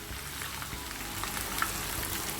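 Prawns fry in a pan, giving an even, soft hiss of sizzling oil that holds steady and fairly faint for the whole moment, with no voices over it.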